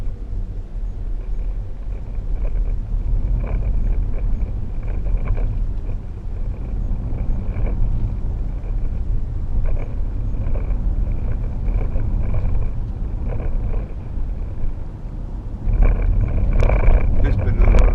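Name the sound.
2012 Range Rover Sport 3.0 SD V6 driving, road noise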